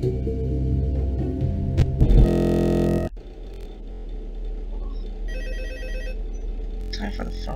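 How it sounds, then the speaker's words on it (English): A telephone rings inside the horror video game Five Nights at Freddy's 2, a loud repeated ringing tone followed by game sounds and electronic effects, with a person talking over part of it. "Time for the phone."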